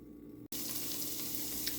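After a brief cut, a steady hiss of peppers sizzling in a hot pan fills the sound, close and continuous.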